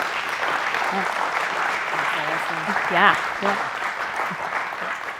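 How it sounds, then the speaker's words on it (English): Audience applause from an event crowd: steady dense clapping fills the clip under a speaker's voice, swelling slightly near the middle. "Give them a round of applause."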